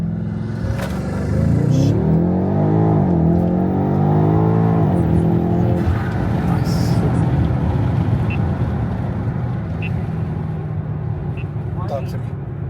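A BMW X5M does a launch run on a road, its engine revving hard through rising gear pulls, then settling into a loud sustained rumble of road and exhaust noise.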